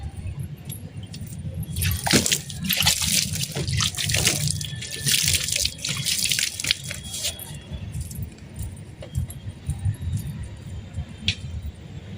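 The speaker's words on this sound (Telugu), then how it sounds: "నేను కొన్ని వాటర్ తీసుకొచ్చి వాటర్ పోసేస్తాను" Water splashes and pours onto the soil around a newly planted tomato plant, a loud gushing burst for several seconds, then quieter drips and trickles outdoors.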